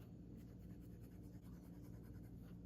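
A Benu Talisman fountain pen writes on paper, its nib giving a soft, steady scratching that runs continuously and faintly up close, with no talking.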